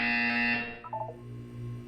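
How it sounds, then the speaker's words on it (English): A loud, harsh electronic buzzer from the video game Portal 2 blares for about half a second and then fades out over low, humming background tones. "When you hear the buzzer, look up at the ceiling."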